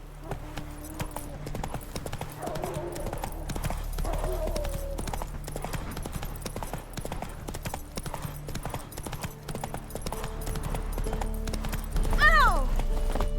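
A horse gallops in The Witcher 3 with a rapid, steady clip-clop of hooves throughout, overlaid by a neigh near the end, with a voice speaking briefly over the hoofbeats.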